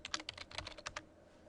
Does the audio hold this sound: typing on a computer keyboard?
yes